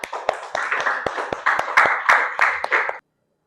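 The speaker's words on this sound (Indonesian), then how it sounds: "Tepuk tangan untuk Firla." A classroom of students claps for a classmate, a short burst of quick, uneven hand claps with sharp individual slaps that stops abruptly after about three seconds.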